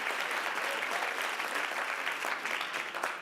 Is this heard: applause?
yes